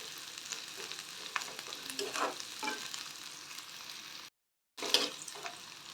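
Mixed sprouted legumes frying for saaru give a steady, faint sizzle with stirring scrapes running throughout, broken by one short silent gap before the sizzling resumes; no talking.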